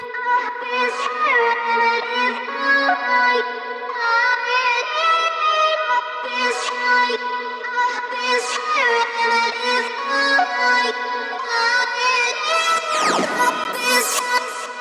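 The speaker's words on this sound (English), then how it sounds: "Let's start with vocal chops, because they appear in the song in the very beginning." Processed vocal chops play back in Ableton Live, a sustained run of pitched, harmonically rich sung fragments with chorus, roar and vinyl distortion effects, loud and continuous, with a swooping glide near the end.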